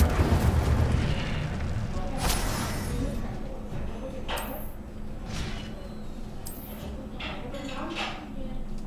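Incendio fire spell cast in Hogwarts Legacy, heard as a low rumbling burst with bright whooshing flares and crackling bursts scattered through the game's ambience, with a voice speaking over part of it.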